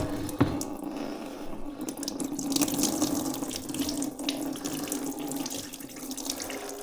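Water draining out of a disconnected car coolant hose during gearbox mechatronic removal, a continuous close splashing trickle with faint dripping, no talk over it.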